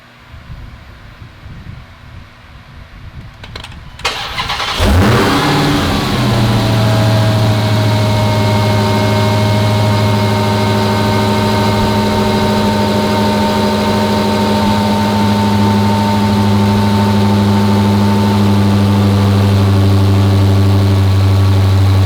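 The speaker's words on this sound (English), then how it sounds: "Let me go ahead and start the car." A Dodge Hellcat fitted with a Corsa performance air intake cranks and fires at about five seconds, then settles into a loud, deep, steady idle rumble with a droning hum that runs to the end, heard alone without talk.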